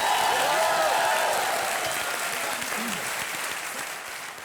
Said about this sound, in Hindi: तालियां बज जाए हमारी टीम के लिए।